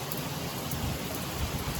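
Monsoon-season rain falling steadily outdoors, a broad even hiss with a low rumbling undertone, moderately loud and unbroken, with no one talking.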